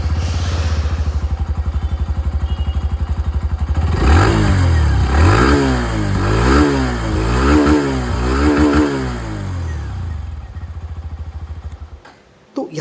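A Hero Glamour X 125 motorcycle idles with a steady thumping exhaust beat, then revs up and down through several rising and falling throttle blips, close and loud, before dropping back and shutting off.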